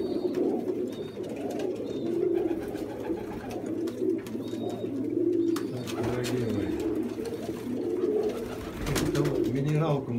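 Pigeons coo in low, rolling murmurs while eating mineral feed at a feeder in winter, a steady layered chorus close by with a faint voice-like murmur beneath.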